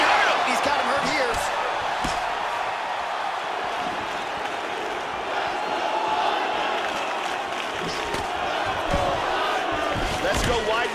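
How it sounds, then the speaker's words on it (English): A UFC 249 arena crowd chants 'Let's go Weidman', a dense, continuous roar of voices and rhythmic shouting with occasional thuds and bursts, while a commentator talks over it. "Let's go Weidman chant reading through the crowd."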